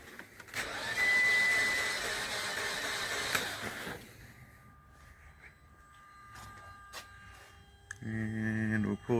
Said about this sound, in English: Let's give it a crank.